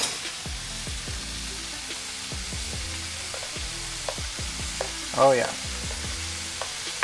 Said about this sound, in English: In this pan, we got some lobster sauteing.